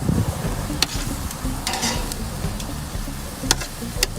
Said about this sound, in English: I'm gonna put these asparagus right back on the same pan